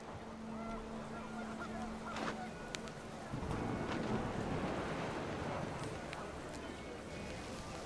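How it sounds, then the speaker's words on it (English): Panicked geese honking in the video game What Remains of Edith Finch as wind picks up before heavy rain, with scattered honks over a windy, rain-like hiss and a voice talking throughout. "The wind picked up, and panicked geese appeared and quickly went."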